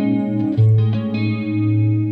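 Clean electric guitar played through a Friedman BE-100 amp with a compressor in front and chorus, reverb and delay in the loop, sustained shimmering chords ringing out loud and alone with a lush, washy tail.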